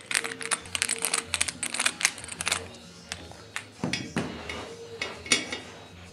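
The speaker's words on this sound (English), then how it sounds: "So we're going to take our screwdriver and just remove these screws." A screwdriver working screws out of the housing of an Ecofan 812 stove fan, with close metallic clicks, taps and rattles in quick irregular bursts and a low hum beneath.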